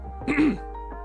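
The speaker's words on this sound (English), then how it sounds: "don't mind me coughing" One short, harsh cough close by, over a steady low background hum.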